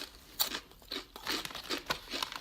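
Ruffles Double Crunch Zesty Cheddar potato chips crunch loudly in the mouth, sharp crisp bites coming in several bursts close up with no talking.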